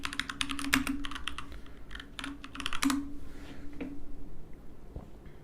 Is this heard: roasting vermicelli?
no